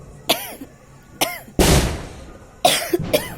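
Several sharp coughs close by, spaced out with short pauses, one longer and harsher, the rest quick single hacks.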